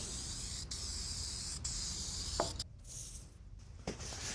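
Short bursts of aerosol spray hiss as vinyl and fabric dye is misted onto a vehicle seat, with several close, airy pulses separated by brief pauses.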